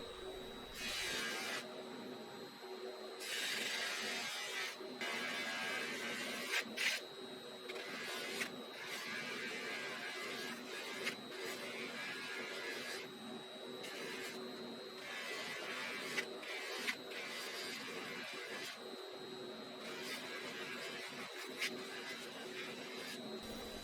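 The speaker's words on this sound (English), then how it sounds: "And here I'm buffing the witness marks." Buffing wheel polishing witness marks on a Rockwell lathe part, a steady motor whine with a continuous high-pitched grinding hiss that swells and eases in repeated passes throughout.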